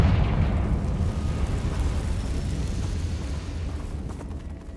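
Confringo fire spell blast in the Hogwarts Legacy video game: a loud, dense rumbling explosion that fills the whole stretch, holding steady before slowly easing off, with no voices.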